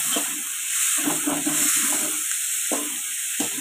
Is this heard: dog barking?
no